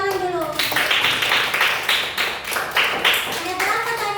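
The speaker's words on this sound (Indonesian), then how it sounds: "Oke, tepuk tangan dulu." A classroom of children claps hands together in a quick rhythmic pattern of short bursts, sharp and close, with a brief voice at the start.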